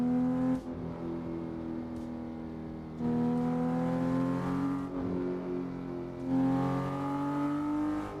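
A Volvo S60R engine in the Assetto Corsa racing game revs repeatedly, rising and falling in pitch over several throttle bursts with brief gear-change dips, loud and close with no voices.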